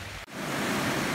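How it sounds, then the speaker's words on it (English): Roaring waterfalls at Todd Nature Reserve, a dense, steady broadband rush heard close and loud, with a brief dip near the start before the roar resumes unbroken. "So hopefully you can hear me over the roar of the water here at Todd Nature Reserve."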